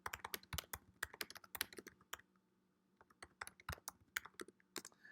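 Rapid keystrokes on a computer keyboard while typing a git commit, a close burst of clicks that pauses briefly around the middle before resuming at an uneven, quick rhythm.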